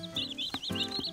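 Baby chicks on a farm peep in quick, repeated high chirps, close and clear, with a low rumble underneath and no talking.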